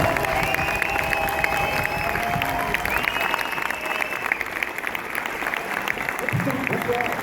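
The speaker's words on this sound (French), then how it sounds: "Nous demandons d'applaudir et de vous lever" Audience applauding steadily at the Orléans premiere of the film La folle histoire de Max et Léon, a dense continuous wash of clapping with some crowd murmur and voices mixed in throughout.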